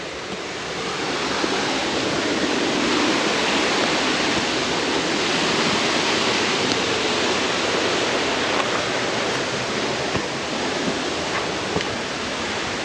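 A small, pristine waterfall on a tributary feeding a creek along a hiking trail pours in a steady, loud, unbroken rush of falling water that holds evenly throughout.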